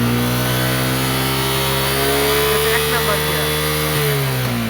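A Suzuki Gixxer motorcycle engine runs steadily in first gear on a top-speed test beside a Pulsar, a loud, close, continuous drone with slowly shifting pitch and a brief dip near the end, while voices talk over it.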